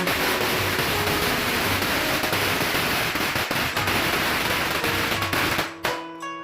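A string of 1,000 firecrackers set off for Chinese New Year at a home in Nakhon Sawan crackles in a dense, loud, unbroken barrage of rapid pops that stops abruptly near the end.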